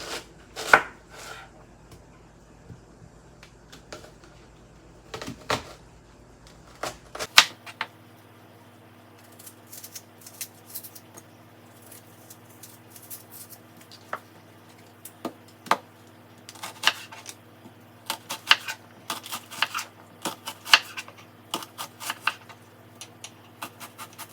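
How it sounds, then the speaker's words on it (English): An onion halved and sliced with a knife on a cutting board, giving a run of sharp, irregular chopping taps, close and fairly loud, with a low steady hum under them for most of the stretch. "I cut my onion in half because it's easier for me to work with by cutting it this way. And I just slice."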